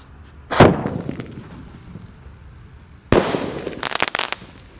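Small fireworks and firecrackers set off for a Ramadan celebration: one sharp, loud launch and burst near the start, then a cluster of rapid bangs and pops about three seconds later, with no talking.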